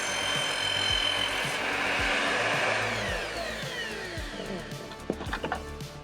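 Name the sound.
cutting a cardboard mailing tube to length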